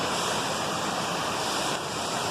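Steady, dense rush of falling water at Cornalla Waterfalls, a continuous broadband roar filling the whole clip with no break or voices.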